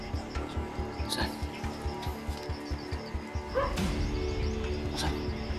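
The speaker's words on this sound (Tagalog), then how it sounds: "May aso dyan to." A dog barks and yips in a rapid, rhythmic series, fairly close and loud, with people talking underneath.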